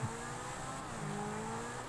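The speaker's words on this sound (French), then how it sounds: "Ah oui, c'est vrai que la voiture va beaucoup plus vite." A car accelerating in a racing video game, a steady engine drone with rising tonal whine, faint and continuous with no distinct passes or pauses.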